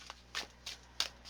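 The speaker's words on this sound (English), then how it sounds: "I still need to shuffle a little bit more to get to our overall card." Quick bursts of tarot cards riffling, four or five short ruffles in an uneven rhythm, close and crisp with no talking.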